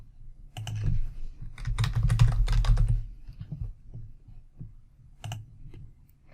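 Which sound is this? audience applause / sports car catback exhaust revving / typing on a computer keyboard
typing on a computer keyboard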